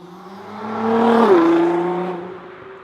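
A single car engine in Forza Horizon 4 revs up and sweeps past, rising in loudness and pitch to a peak, then dropping away smoothly.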